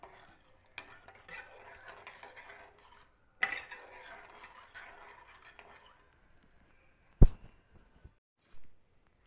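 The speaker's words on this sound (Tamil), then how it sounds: "சேர்த்து நல்லா கலந்து விட்டுக்கோங்க." A utensil scrapes and swirls through an okra pachadi mixture with water in a pan for several seconds, followed by a few sharp knocks against the metal.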